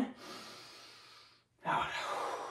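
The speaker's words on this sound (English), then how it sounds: "Catch your breath, deep in," A long, deep breath drawn in during a short rest between sparring rounds, then a brief pause before a strong, noisy exhale; close and fairly loud with no talk.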